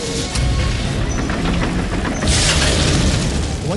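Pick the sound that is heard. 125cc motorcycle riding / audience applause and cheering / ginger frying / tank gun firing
tank gun firing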